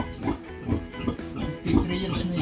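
Sows on a Filipino pig farm give repeated low grunts and oinks in uneven bursts, close by, while someone talks over them.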